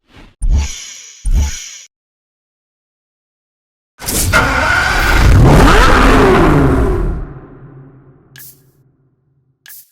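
Supercharged 6.2-litre engine of a Chevrolet Corvette ZR1 in the racing game Need for Speed Hot Pursuit: two short sharp throttle blips, then a long loud rev that climbs and falls away, with silence between.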